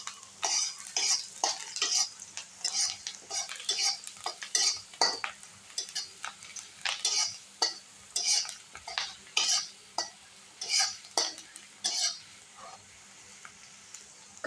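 Onion roasting in a pan for black chicken sukka, heard as a soft sizzle under repeated stirring scrapes of a spoon against the pan in an irregular rhythm, close by, with no talking.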